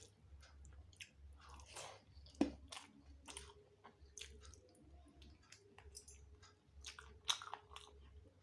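Close, wet chewing and squishy bites of a spicy chicken curry meal, faint and steady with occasional louder crunchy bites, no talking.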